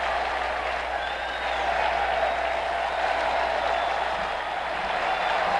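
A large baseball stadium crowd cheers and applauds continuously, a dense, loud, steady roar of clapping and voices with no break.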